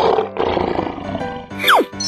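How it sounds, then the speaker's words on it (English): A cartoon lion roars loudly for about two seconds, rising and falling in a rough snarl, with a sharp descending whistle-like sweep near the end, in an animated animal transformation scene. "Lion."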